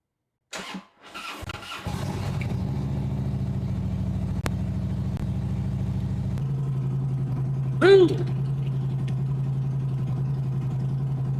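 A fuel-injected Harley-Davidson motorcycle with a weak battery cranks briefly, catches and settles into a steady, loud, close idle as it warms up, with a short sharp sound near the end.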